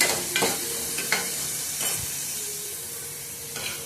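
Onions and curry leaves sizzle steadily in a pan for sambar, with a few scraping stirs of a spoon against the metal standing out over the constant frying hiss.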